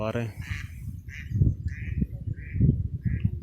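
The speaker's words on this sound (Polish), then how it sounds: "Kaczki się drą." Ducks quack loudly beside a fishing pond, a string of harsh calls mixed with other birds, while someone talks nearby.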